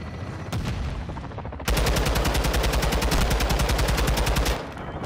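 Rapid automatic gunfire from Call of Duty: Modern Warfare 2, a few scattered shots followed by a loud sustained burst of fast, evenly spaced rounds lasting several seconds, with no voices.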